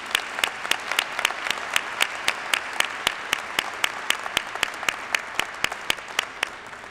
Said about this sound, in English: Please join me in applauding the faculty and thanking them